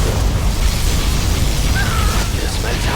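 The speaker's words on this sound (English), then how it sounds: "Particle cannon activated." A particle cannon blast and explosion from the real-time strategy game C&C Generals Zero Hour: a loud, dense, sustained rumbling boom filling the whole clip, with a brief higher whine partway through.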